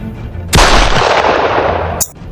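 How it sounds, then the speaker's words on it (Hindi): Heavy gunfire erupts loud and close in a staged comedy action scene on an island, a dense sustained burst lasting over a second before cutting off sharply. "ये गोली कहाँ से आ रही है?"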